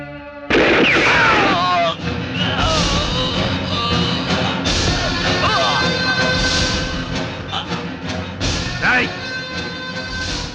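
Gunshots ring out in an action film scene, loud bursts and sharp cracks layered over a dense, busy soundtrack with music, continuing throughout.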